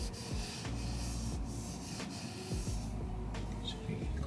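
An alcohol wipe is rubbed across a surface on a Tesla Model Y Long Range, giving close, hissing, scrubbing strokes that repeat in an uneven rhythm.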